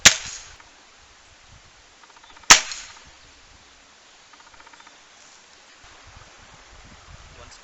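Two sharp, loud cracks of a Weihrauch HW57 .177 air rifle firing a couple of seconds apart, each followed by quiet rustling ambience.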